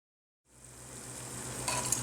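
Jalebi frying in hot oil; after a half-second of silence a soft, steady sizzle starts and gradually grows a little louder, with no voices.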